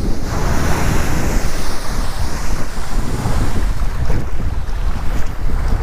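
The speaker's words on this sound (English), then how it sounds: "pretty windy over here" Strong wind blows across the top of a dam beside water, a loud, steady roar of buffeting gusts and microphone rumble lasting throughout, with no voices.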